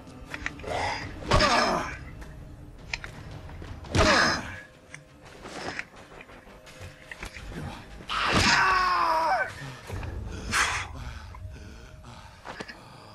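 Zombie screams from the ZombiU survival horror game, harsh vocal bursts repeating across the stretch, with the loudest, drawn-out shriek near the middle over a dim game background.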